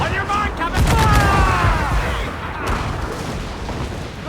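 Ship cannons fire in a naval battle in the 2013 video game Assassin's Creed IV Black Flag, with loud booming volleys and crackling blasts as shouted voices call orders over the din.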